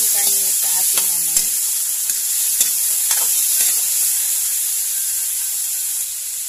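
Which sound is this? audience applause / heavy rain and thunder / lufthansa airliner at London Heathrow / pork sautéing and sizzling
pork sautéing and sizzling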